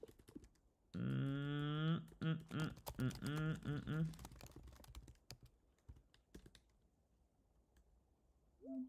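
A computer keyboard is typed on to enter a command, with light, quiet key clicks near a short voiced sound.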